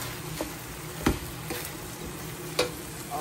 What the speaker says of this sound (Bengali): শাকটা অ্যাড করে দিচ্ছি।